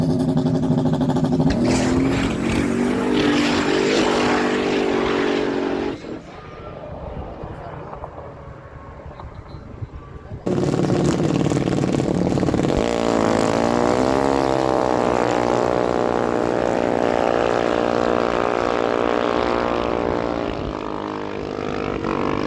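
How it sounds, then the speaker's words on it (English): A 1967 Chevy Camaro makes a drag strip run, its engine roaring loud and rising through revs, dropping away briefly before surging back and pulling steadily, with a track announcer talking over it. "Nelson Lehman bringing that machine in, 67 Chevy Camaro out of Langtang, New Brunswick"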